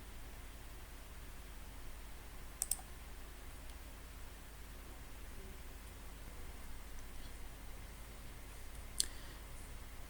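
Computer mouse clicking while filling in an online visa application: two or three faint, sharp clicks spaced several seconds apart over a low, steady hiss.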